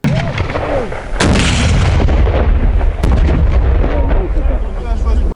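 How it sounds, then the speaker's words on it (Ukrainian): A handheld anti-tank grenade launcher fires at a target during military training, giving a loud, heavy blast followed by a sustained rumbling roar that fills the whole stretch, close and powerful, with a voice faintly underneath. "постріли по мішені з ручного протитанкового гранатомету"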